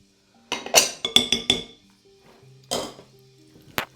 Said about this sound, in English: we're going to give that a whisk together just to combine both of those delicious ingredients